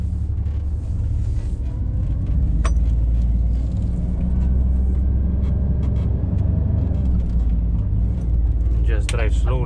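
A Class 2 HGV lorry rolls slowly along a road in England, its steady deep engine rumble filling the cab from start to finish, with a brief hiss near the end.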